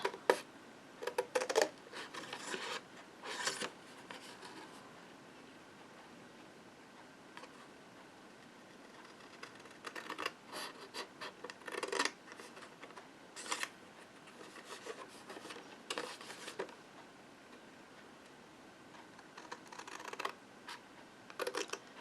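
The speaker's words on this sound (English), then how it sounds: "So it might be easier to bring in larger scissors" Quiet, intermittent snipping of scissors cutting material for a decorative Easter basket, short bursts of crisp clicks separated by pauses, close by and faint.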